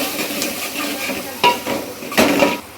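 Spices stirred into pasta in a pan, with soft scraping and sizzling and a few sharper spoon strokes against the pan near the end.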